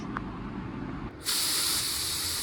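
A paint spray gun bursts on to lay clear coat, a close, loud, steady hiss that starts abruptly after a quieter background and continues unbroken.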